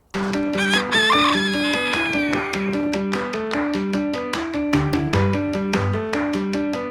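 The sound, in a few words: backyard chickens clucking and rooster crowing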